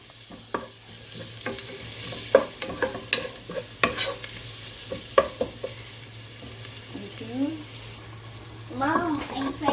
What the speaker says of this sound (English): Here's garlic to cook.